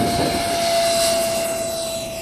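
A Freewing F-104 radio-controlled jet with a 70mm electric ducted fan accelerates on its takeoff roll and lifts off with a touch of flaps, giving a steady, loud high-pitched whine and rush of air throughout, with no talk.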